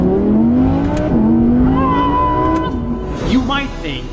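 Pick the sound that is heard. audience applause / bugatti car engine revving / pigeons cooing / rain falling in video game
bugatti car engine revving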